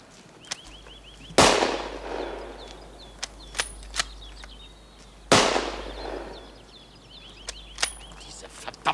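A rifle fires two loud, sharp shots about four seconds apart, each with a rolling, echoing tail. Faint clicks and chirps sound between them.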